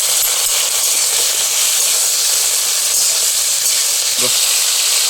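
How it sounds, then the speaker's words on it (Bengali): Young jackfruit pieces fry in hot oil with a pinch of turmeric and salt, giving a loud, steady sizzling hiss that continues without a break. "তেল গরম হয়ে গেছে, আমি কাঁঠালের এঁচড়গুলো এবার দিয়ে দেবো।"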